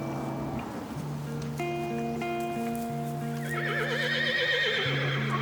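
A horse neighs loudly and close, with long, wavering, tonal whinnies rising in pitch toward the end over a steady background, no speech.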